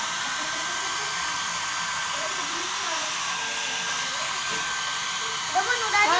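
A hair dryer blows steadily on a long-haired Himalayan Persian cat after its bath, a loud, close, continuous whooshing whir with faint voices underneath.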